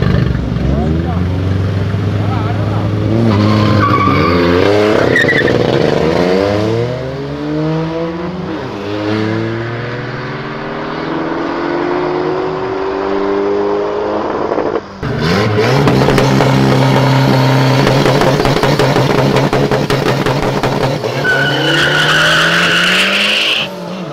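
A VW Gol 4x4 skids sideways and nearly hits a wall, its tires squealing and engine revving loudly in long sweeping slides, with people talking over much of it.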